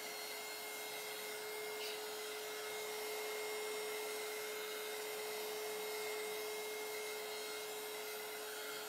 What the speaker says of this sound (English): Using the heat gun again to kind of push the colors again.